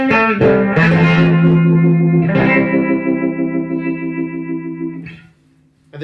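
Electric guitar played through a tremolo effect: a few sustained, ringing notes whose volume pulses steadily, then fade away near the end. No one speaks.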